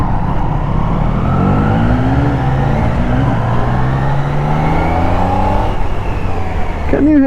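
Triumph Daytona 660 motorcycle accelerating on the road, engine note rising steadily through the revs with wind rush, loud and close throughout, with a voice briefly at the end.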